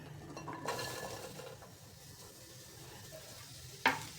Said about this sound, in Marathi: ह्या भाज्या आपल्याला हलक्याशा परतून घ्यायच्या टोमॅटो कांदा आणि शिमला मिरची एकदमच टाकायचे